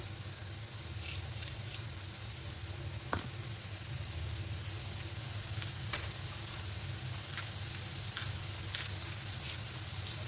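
Steady frying sizzle of chana dal cooking in a pan with black cumin, a continuous hiss with occasional small pops and a clink of a utensil, heard alone without talk.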